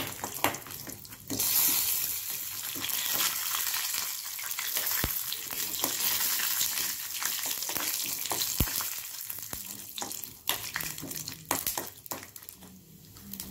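Peanuts frying in a little oil for gongura rice, a steady crackling sizzle with occasional stirring scrapes and clicks, close and moderately loud throughout, no voices.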